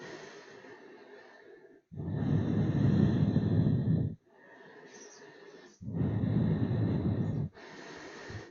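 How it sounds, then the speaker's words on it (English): Slow, deep breaths during a vinyasa yoga class: two long, loud airy exhales of about two seconds each, separated by quieter breathy inhales, close to the mic with no talking. "About 2 more long, slow breaths."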